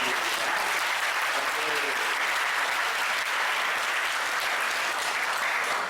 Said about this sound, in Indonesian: Tepuk tangan dong buat kita semua.